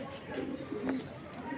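Pankhi bloodline pigeon giving soft, low coos near the microphone, repeated a few times against a quiet background with faint talk.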